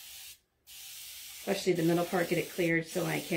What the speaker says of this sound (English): I'm just going to spray and clean this up.